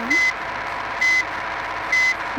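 A bus in reverse gear sounds three evenly spaced electronic reversing beeps over a steady engine idle, close and loud, with no talking.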